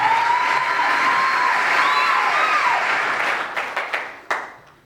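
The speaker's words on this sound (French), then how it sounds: "Sous vos applaudissements, mesdames et messieurs." Wedding guests at a civil ceremony clapping together, a full steady round of applause with faint whistles woven in, breaking into a few last separate claps before fading out.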